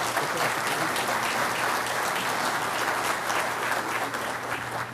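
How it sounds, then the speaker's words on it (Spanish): Audience applause welcoming a speaker to the table at a training conference, dense steady clapping from a large crowd that holds for the whole stretch and eases slightly at the end. "Invito al doctor Günter Rosch a subir a nuestra mesa con un caluroso aplauso."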